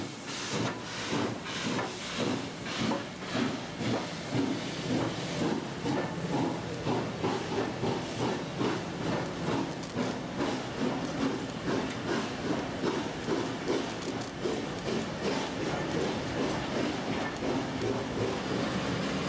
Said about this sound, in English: After the steam locomotive's departure